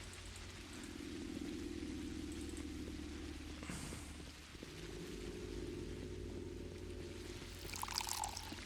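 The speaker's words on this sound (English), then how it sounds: "I did also get some more bottles that I'm going to refill right now." Water pours steadily into bottles being refilled in the video game Pathologic, a continuous splashing trickle at moderate level with a brief pause midway and a brighter splash near the end.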